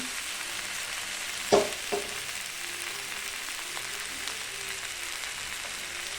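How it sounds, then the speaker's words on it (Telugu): Mint, coriander, tamarind and salt frying together in a pan for chutney: a low continuous sizzle broken by two clattering knocks of a stirring spoon. "ఒక 2 నిమిషాలు కొద్దిగా ఫ్రై చేసి స్టవ్ ఆఫ్ చేసుకోవాలి"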